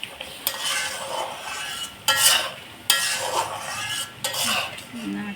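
Ground spices, chilli and coriander powder, stirred and fried over low heat for shahi korma, with scraping strokes of a spoon against the pan in bursts and a soft sizzle between them.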